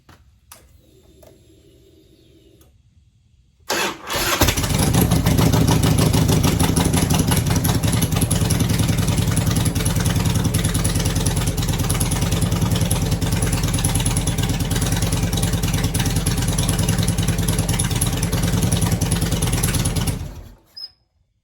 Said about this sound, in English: Hopefully it'll crank up and the battery's not dead.